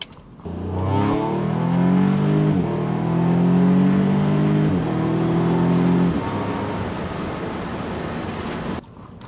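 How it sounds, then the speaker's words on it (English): An Audi S3's fake engine sound in dynamic mode growls loudly and steadily with a synthetic, layered tone, rising in pitch as it accelerates before settling back, with no voices. "this car has a device called the sound actor, which makes fake noises."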